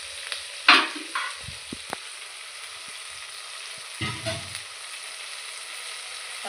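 Tomatoes sautéing in oil in a pan give a faint, steady sizzle throughout, punctuated by a few soft stirring scrapes and taps.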